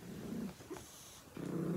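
A small dog growls softly in two low rumbling bursts close by, with a short quiet gap between them.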